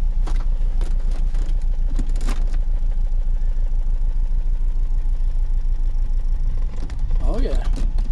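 A 2003 VW Beetle engine runs steadily at idle close by as the car is shifted into gear, a low constant rumble with a few mechanical clunks, while a person talks over it.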